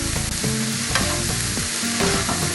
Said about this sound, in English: Just like that, just stir it around.